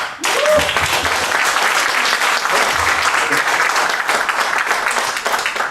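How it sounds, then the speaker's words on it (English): An audience at a conference breaks into loud, sustained applause that fills the room with dense clapping and holds steady for several seconds. "So big, massive round of applause for Pedro."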